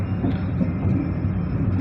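A train runs on its tracks through green village countryside on the main line, a steady rumbling roll with faint rhythmic clatter, close and continuous with no voices.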